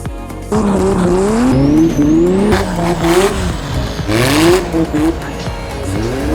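A transverse-mounted SR20 all-wheel-drive rally car racing on ice at the Fat Ice Race in Big Sky, Montana, its engine revving hard and rising and falling through gear changes, loud and close, with voices talking over it.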